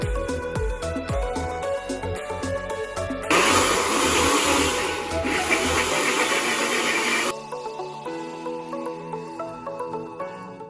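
A blender purees cauliflower, whirring loudly for a few seconds, its motor roaring and hissing, with music playing before and after.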